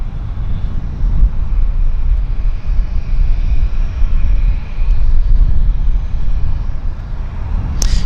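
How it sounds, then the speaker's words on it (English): An Air Transat Airbus A321 jet at Vancouver airport, a loud, steady engine rumble with a broad roar, continuous across the whole stretch, heard from outside the aircraft. "TS771 going to Montreal. Thank you, Chester Mike. 9-year-old A321"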